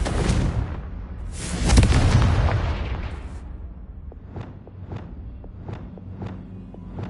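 A Confringo blasting spell goes off in Hogwarts Legacy with a loud rumbling burst that swells and fades over a couple of seconds, followed by a steady run of soft, even footsteps.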